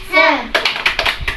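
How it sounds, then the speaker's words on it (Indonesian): Children in a school guidance class doing the rhythmic 'tepuk semangat' spirit clap, a quick series of sharp close claps following a child's chanted call. "Sekali lagi, tepuk semangat."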